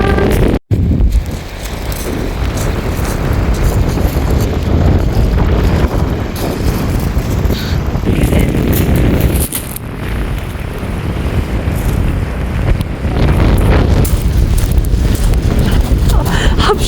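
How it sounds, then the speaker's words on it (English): Strong wind on a hike in New Zealand's Hooker Valley near Mount Cook, heavy gusts roaring and buffeting the microphone continuously and close, with a voice faintly under it. "It's so windy"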